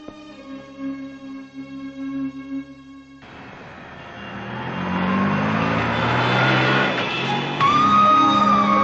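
A lorry comes up from behind: sustained tonal notes give way to a broad engine and road roar that swells steadily louder as it nears, ending with a high tonal whine.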